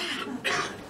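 A single short cough from someone in a seminar audience, brief and fairly faint against room ambience.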